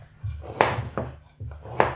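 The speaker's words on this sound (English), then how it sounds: "this bacon fat has a little bit of a rind on it, so we do need to cut that off" A knife slices the rind off a slab of bacon fat on a board, several crisp cutting strokes close up with low background hum.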